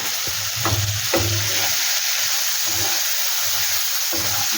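Spices and four slit green chillies sautéing in a pan for banana flower ghonto with prawns, a constant bright sizzle under rhythmic spatula scrapes, close and fairly loud.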